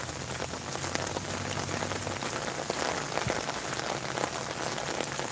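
Steady rain patters on surfaces outdoors during a walk, a dense continuous hiss of drops with scattered nearer splats and no talk.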